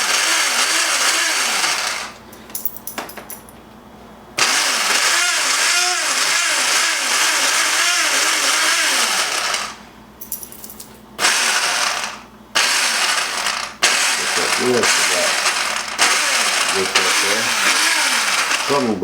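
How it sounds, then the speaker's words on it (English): A kitchen blender whirs loudly, blending Cajun blackening seasoning. It runs in several bursts with short pauses between them, and the motor's pitch wavers as it spins up and strains through the dry spice mix. "we'll blend this up"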